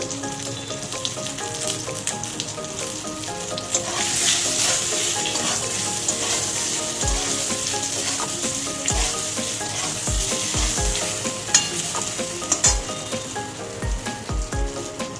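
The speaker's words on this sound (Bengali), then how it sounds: "বেগুন ভেজে তুলে নিয়েছি" Brinjal (eggplant) pieces fry in hot oil in a pan, giving a steady close sizzle with the dull knocks of a spatula stirring and scraping in the second half.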